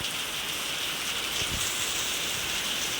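Steady heavy downpour pours in an even, hissing wash, with a faint low thump partway through.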